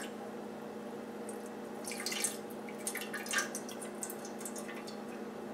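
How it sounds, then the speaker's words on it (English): Wood sorrel tea poured carefully out of a bowl, a faint brief trickle and a few drips over a quiet background hum, no talk. "we want to dump this bowl kind of carefully because there is going to be some sediment"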